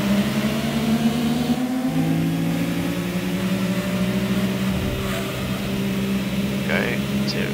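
A small Opel Corsa's engine revving hard in the racing game Gran Turismo 2, a steady droning whine rising and shifting through the gears, loud and continuous.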